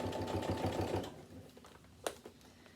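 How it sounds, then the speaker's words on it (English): A sewing machine stitching along the piping of an Italian Renaissance costume, running in a fast, steady whir close by for about a second before stopping, followed by a faint click. "each time you sew up against that piping and just sew nice and tight right up against the piping"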